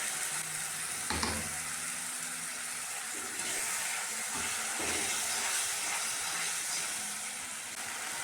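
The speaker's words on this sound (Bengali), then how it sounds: "মিক্সচারটা দিয়ে একটু জল দিয়ে কষাবো।" A spice mixture sizzles and hisses in a pan with a little water while being sautéed for chicken curry, a steady close frying sound with occasional stirring scrapes and knocks.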